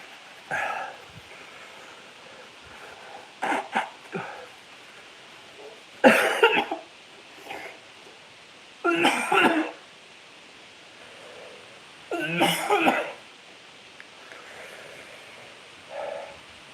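Several harsh coughs spaced apart, close to the listener, in rough bursts every few seconds with quiet breathing between.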